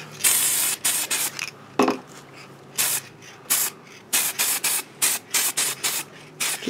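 Light coat of chrome spray paint going onto a clear cosplay visor in a series of short, hissing aerosol bursts with brief pauses between them, close and fairly loud, with no talking.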